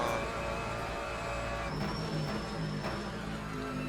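Mercedes race car in the sim racing game Le Mans Ultimate, engine droning steadily at high revs with pitch shifting briefly near the end, heard alone without speech.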